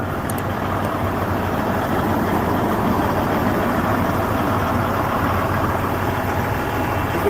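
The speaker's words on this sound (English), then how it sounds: "Hey, that engine sounds real good." Truck engine idles with the hood open, a loud, close, steady low rumble with a constant throb that runs unchanged throughout.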